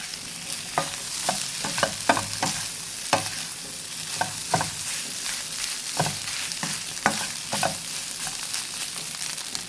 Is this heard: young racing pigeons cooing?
no